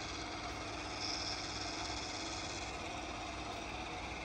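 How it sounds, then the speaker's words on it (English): A Csepel RF 50/1600 radial arm drill runs its spindle at the minimum 50 rpm, giving a faint, steady mechanical hum with a light whine and constant motor drone. "Working of spindle at its minimum speed,"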